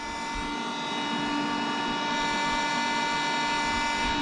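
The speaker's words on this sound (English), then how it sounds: "Little haze is coming out the blower." A blower runs steadily, giving off a loud continuous rushing hum with faint whining tones on top, unchanging and close, with no one speaking.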